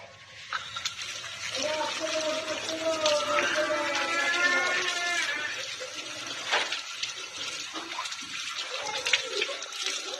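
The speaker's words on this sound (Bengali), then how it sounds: "এখন আমি হাতটা ধুয়ে নেব" Hands are rinsed under running tap water after lathering with homemade liquid hand wash. A steady, close rush of water runs through the whole stretch while a voice talks over it.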